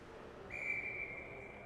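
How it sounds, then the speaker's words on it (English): A referee's whistle sounds once at an ice hockey game between the Wenatchee Wolves and Boston Advantage, a single sustained shrill blast of about half a second over faint arena murmur. "It goes over and hits about 3 different players on the benches as it bounces up, and we'll get another whistle."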